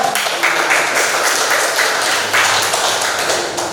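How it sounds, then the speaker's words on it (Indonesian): Applause for a student group after their broadcasting and film presentation, a steady wash of clapping from a room of people, loud and continuous throughout. "tepuk tangan untuk kelompok"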